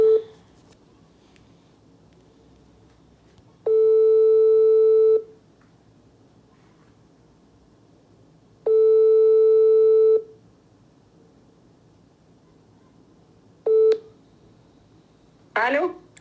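A French telephone busy signal sounds as repeated long electronic tones, each about one and a half seconds, separated by quiet gaps. A final short tone cuts off, followed by a brief noise at the end.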